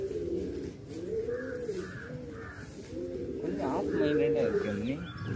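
Cooing of fantail pigeons (American or Indian fantail) repeats in soft throaty phrases close by, with a few higher calls, under a steady background hum.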